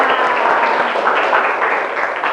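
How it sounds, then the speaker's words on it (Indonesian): A class of vocational high school students at SMK Negeri 8 Jember applauds together, a dense, continuous wash of clapping from many hands filling the room for the whole stretch. "Tepuk tangan untuk kita semua"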